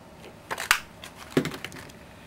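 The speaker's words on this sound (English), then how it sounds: "So I'm going to use my 2-inch circle punch." A 2-inch circle punch presses through tan cardstock with a couple of short, sharp crunching clicks a second apart, close and crisp over a quiet room.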